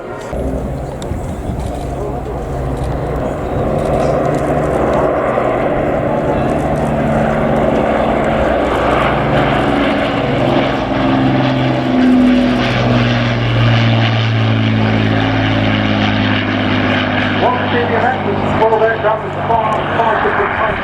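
A propeller cargo aircraft performs a skip landing at an air show, its engines droning loud and continuous with rising and falling pitch as it passes, while an announcer talks over it throughout.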